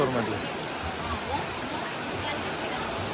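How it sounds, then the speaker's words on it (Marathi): Steady, dense rain pours down in a continuous hiss that fills the whole clip, with a faint voice in the background. "इकडे बघा पाणी जोरदार एकदम मुसलदार पाऊस"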